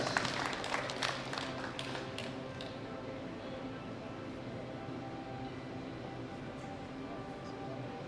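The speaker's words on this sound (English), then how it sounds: "Give them a round of applause" A brief burst of clapping at the start quickly fades into a low, steady background murmur.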